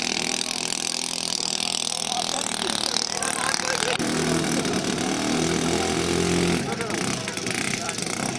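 A Zlín 140 semi-scale model plane with a ZPV 180 petrol engine runs steadily and loudly throughout, its drone shifting partway, with voices faintly present at an outdoor model flying event.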